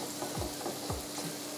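Chicken pieces frying in a pan as they brown on one side, a steady close sizzle running throughout with a few soft low thumps.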